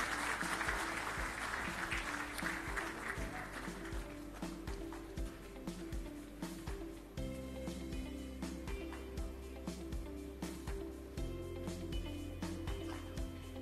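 An audience at a business awards ceremony claps steadily and loudly throughout, a dense wash of hand claps that stays strong from start to finish.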